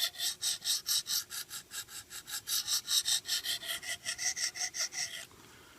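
Rhythmic back-and-forth rasping of a knife edge drawn across a KME guided sharpener stone, working only the shoulder of the factory bevel; about twenty close, evenly paced strokes with no talk, ending abruptly into quiet.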